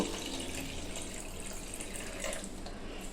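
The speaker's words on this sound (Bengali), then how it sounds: "এইভাবে আমি আরও 2-3 বার এইভাবে জল দিয়ে আমি ভালো করে ধুয়ে নেব" Running water rinses rice in a bowl, a steady wash of splashing and swirling at close range that holds for the full few seconds without speech.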